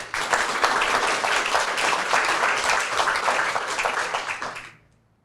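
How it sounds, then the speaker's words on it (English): Audience at a county commissioner's district town hall breaks into sustained, dense applause, steady and loud for nearly five seconds before quickly fading out. "So please give her a round of applause."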